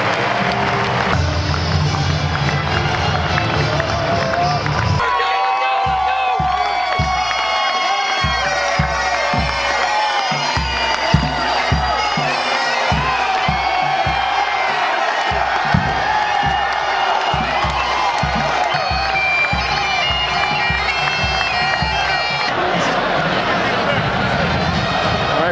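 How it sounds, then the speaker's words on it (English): A stadium crowd at a college football game between Temple and Army in 2008 cheers and applauds parachute jumpers, a sustained roar heard beneath loud music with a thumping beat and an announcer's voice. "Let's give our jumpers another round of applause for a job well done."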